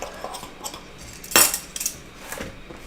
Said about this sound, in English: Now let's go ahead and stir this up.